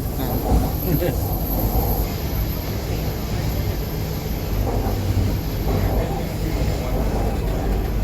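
An electric train in Thailand runs along the rails with a constant loud rumble and hiss of motion, some faint voices mixed in, heard from inside.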